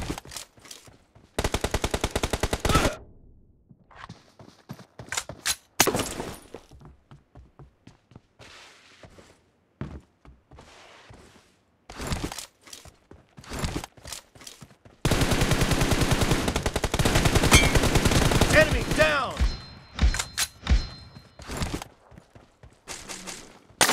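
Rapid bursts of automatic gunfire from the mobile battle-royale game PUBG Mobile, loud and close, with long sustained volleys broken by short gaps and scattered single shots.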